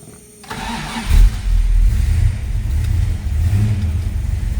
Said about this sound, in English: I think we should fire up this 440,